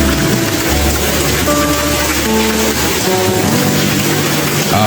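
Heavy afternoon rain falling in front of a house, a steady dense hiss that stays loud and even throughout with no voices.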